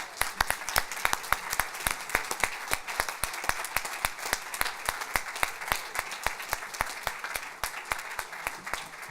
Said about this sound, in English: So a big applause to our 4 winners of this year.